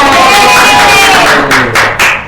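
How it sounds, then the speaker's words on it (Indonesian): A group of people in a classroom claps together in a burst of applause, loud and close, with the clapping tapering off into a few scattered claps. "Beri tepuk tangan untuk Mbak Dila dan Mbak Bunga"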